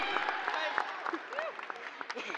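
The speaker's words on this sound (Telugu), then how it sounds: "గట్టిగా క్లాప్" A press meet audience claps in a dense burst of applause, close and fairly loud, with voices and talk mixed in throughout.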